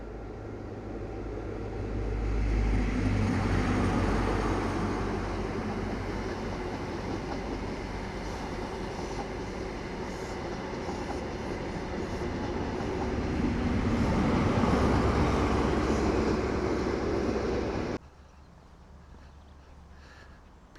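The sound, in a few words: train passing on the railway near Stirling Castle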